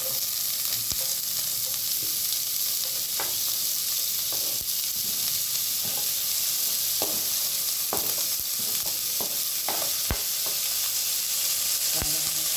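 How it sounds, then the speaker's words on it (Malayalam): Onion and green chilli sautéing in a pan for masala dosa filling, a steady close sizzle with occasional sharp spatula scrapes and stirring clicks throughout. "പച്ചമുളക് ഇതൊന്ന് നന്നായി ഒന്ന് വഴറ്റി"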